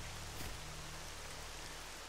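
Game rain falls steadily in the Pripyat zone, a dense, even hiss of drops on surfaces that stays constant and fairly close throughout, with no voice over it.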